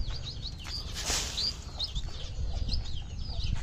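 Hungry pet birds chirp and call repeatedly while being fed, a busy overlapping cluster of bright tweets that continues the whole time over a low background hum.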